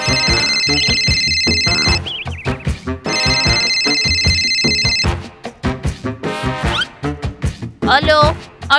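A telephone bell rings in two long bursts, bright and loud, alternating with a child's crying and fussing sounds between and after the rings.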